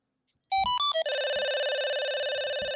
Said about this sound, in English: these are the different rings